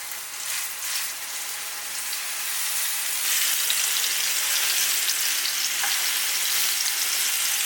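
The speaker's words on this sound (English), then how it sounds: "Add a little avocado oil. Once the pan gets hot, we're going to sear our beef." Beef sears in avocado oil in a hot pan, a loud, continuous crackling sizzle that swells and stays dense throughout.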